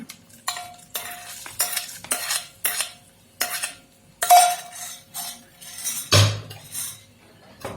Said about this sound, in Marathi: पोहे यात मिक्स करा